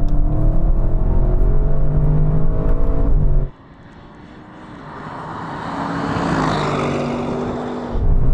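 An Audi RS6 and a Tesla Model 3 launch in a drag race. A loud, rising engine drone holds for a few seconds, then cuts to a quieter whine and rushing wind that builds and fades, with a strong surge returning at the end.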